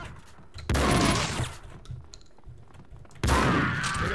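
Gunfire in the video game Max Payne 2, two loud bursts of rapid shots separated by a quieter stretch of background noise, close and dense, with no talking.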